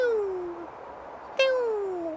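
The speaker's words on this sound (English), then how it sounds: "we have got a buzzard flying up there" A buzzard calls twice from high overhead above a garden with chickens, each a drawn-out descending mewing cry, faint and distant against quiet outdoor ambience.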